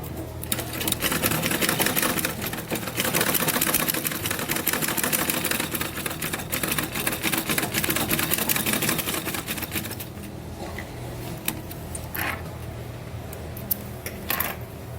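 A sewing machine stitches a round neckline with a quarter-inch seam, giving a steady fast mechanical whir for about ten seconds that then gives way to a few scattered clicks and handling sounds.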